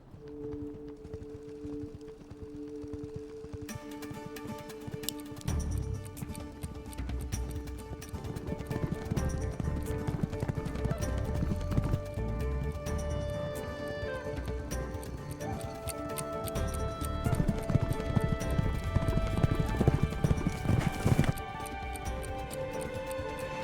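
Hooves of a young horse on a mile-and-a-half oval racetrack, heard as a quiet stretch and then a busy, building rumble of clip-clopping strides over about twenty seconds with some background sound.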